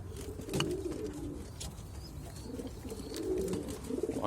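Zubairi pigeons give two soft, low cooing phrases near the start and again later, set against a steady hum of background noise.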